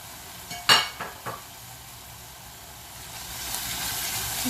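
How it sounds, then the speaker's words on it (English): Fenugreek leaves tipped into a hot pan of masala for dum aloo, with a sharp sizzle and a few clattering stirs up front, then a steady, louder frying hiss building toward the end. "Now I'm adding the fenugreek leaves into this."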